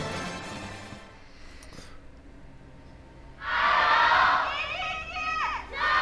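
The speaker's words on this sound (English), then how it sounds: "we're going to hear their cheers as we step onto the Rift" Esports arena crowd at an LPL League of Legends match bursts into loud cheering and shouting midway, swelling and then easing, after a quieter stretch of murmur.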